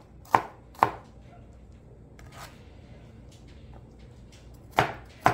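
An onion chopped on a board for sautéing: a few sharp, close knife chops, two in quick succession, a softer one midway and two more near the end, with quiet pauses between.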